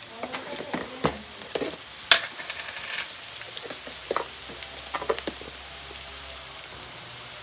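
Chili powder being stirred into a frying lovi-lovi fruit pickle mixture in a pan gives a soft, steady sizzle broken by scattered scraping and clinking stir sounds, with no talking.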